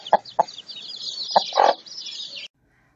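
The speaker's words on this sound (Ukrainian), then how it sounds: "Мама курка у садочку кличе донечок і синочків." A hen calling her chicks in a yard gives a few short, close clucks followed by a longer drawn-out call, then silence.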